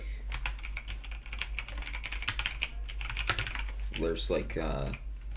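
Computer keyboard keys tapped repeatedly, mostly the tab key, in quick irregular clicks at close range over a steady low hum, with a short burst of voice near the end.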